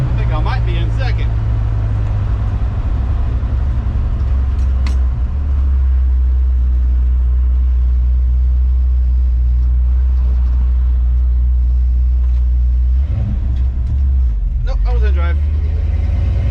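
A 1970 Dodge D100 pickup with a Holley Street Dominator intake is driven in second gear. The engine drones loud and steady throughout, close up, with one shift dip and a short rise near the end.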